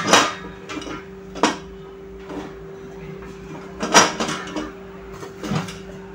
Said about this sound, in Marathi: हे पहा, आता मी झाकण लावते आहे कुकरचं।